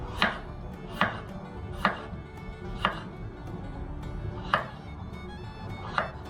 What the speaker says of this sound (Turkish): Şimdi böyle ince ince doğrayacağım.